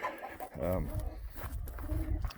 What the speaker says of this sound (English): Excuse all my chickens are kind of annoying.